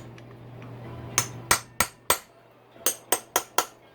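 Hammer blows bending back a clutch locking tab on a Yamaha YZ250 two-stroke motor during a rebuild: eight sharp metallic strikes, first in a quick run of four, a pause, then four more in even rhythm, close and loud over a faint hum.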